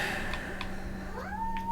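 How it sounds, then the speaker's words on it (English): A house cat meows near the microphone in two rising, drawn-out calls, the second longer and sliding upward, over a steady low electrical hum and faint game sounds. "Another cat interruption as he claws me in the throat."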